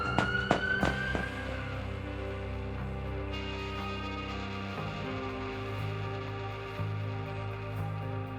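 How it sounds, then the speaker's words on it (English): Police sirens wail from a distance, rising and falling steadily in a 1940s-style crime film scene, with a brief sharp clatter at the start before the sirens carry on alone at moderate loudness. "I heard police sirens approaching in the distance."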